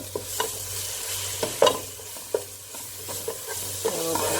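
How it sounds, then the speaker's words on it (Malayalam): Turmeric powder being stirred into chole curry in a pan, giving soft repeated scrapes and taps of a spoon over a steady low sizzle, close and moderately quiet. "അതേപോലെ മഞ്ഞൾപ്പൊടി ഇളക്കാം."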